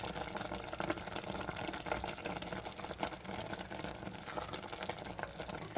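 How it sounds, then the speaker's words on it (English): Cranberry sauce bubbling in a pot at a little more than a simmer, a steady dense crackle of popping bubbles throughout, close and fairly quiet, with no talk. "Mine is at a little more than a simmer, so I think it'll go a little faster."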